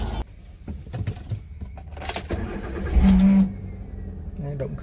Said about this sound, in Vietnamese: sẽ nổ máy lên cho quý vị anh chị các bạn cùng xem nhé